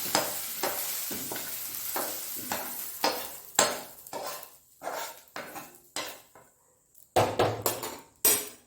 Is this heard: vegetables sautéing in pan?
yes